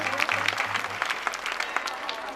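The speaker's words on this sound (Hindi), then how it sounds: "इसी क्रम में आप ताली बजाएं" An audience at a yagna festival gathering applauds to honour a group of girls, a dense burst of clapping close by over faint background tones.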